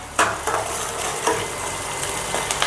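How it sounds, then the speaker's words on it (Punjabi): Chopped onions sizzle steadily in a hot pan while a spoon stirs and scrapes through them in a few brisk strokes, close and clear, with no voices. "ਹੁਣ ਮੈਂ ਪਿਆਜ਼ ਪਹਿਲਾਂ ਪਿਆਜ਼ ਭੁੰਨ ਲਵਾਂ ਚੰਗੀ ਤਰ੍ਹਾਂ"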